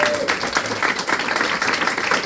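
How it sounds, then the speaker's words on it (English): A comedy club audience in Berlin breaks into brief applause, a short burst of clapping that fills the room with a voice briefly over it. "Give him a clap."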